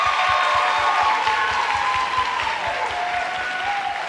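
Audience applause at a high school rhythm show, loud dense clapping and a few cheers mixed with a steady thumping beat and faint tonal music underneath, gradually easing off.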